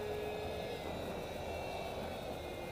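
A foam RC SU-37 model jet with an electric ducted fan roars at full throttle punch-out, a steady, loud whooshing whine passing overhead.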